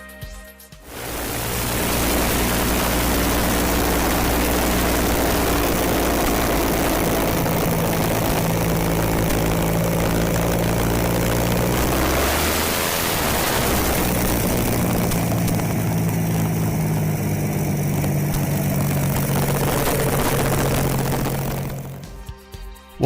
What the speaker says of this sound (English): Tarso's creation includes a 300-horsepower, 6-cylinder Rolls-Royce Continental engine, widely used in aviation during the 1960s.